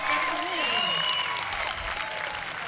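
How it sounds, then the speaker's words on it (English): A rodeo crowd in the stands claps and cheers steadily after a speed event, dense and close, with a few voices calling out amid the applause. "It's nice to hear the audience cheer."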